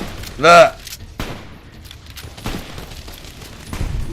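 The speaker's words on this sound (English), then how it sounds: "Boone's putting in work. Look, his rifle's singing" Rifle fired in the video game Fallout: New Vegas, one loud close shot with a ringing tail, then a few fainter distant pops while someone talks.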